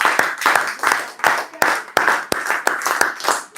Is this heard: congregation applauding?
yes